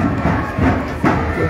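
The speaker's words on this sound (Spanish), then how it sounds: "el público aplaude" Audience at a street dance parade of the Unucajas cultural association in San José district, Azángaro, Puno, giving loud, close crowd noise with applause and cheering in a few swelling surges.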